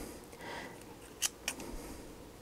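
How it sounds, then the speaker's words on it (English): Two quick crisp scissor snips cutting waste yarn from a toe-up sock knitted on short circular needles, close and fairly quiet against a soft room hush. "So I will just snip it again."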